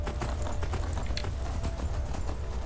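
Horse hooves in the video game Skyrim clip-clop in a quick, steady rhythm over a low rumbling background, continuous throughout.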